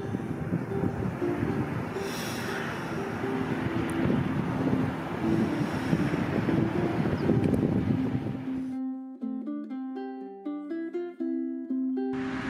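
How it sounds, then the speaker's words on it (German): A motorboat passes on a river, a steady engine drone with wind noise that holds for about nine seconds. Then it cuts off abruptly and a plucked melodic music passage follows. "Das erste Motorboot auf der Tour."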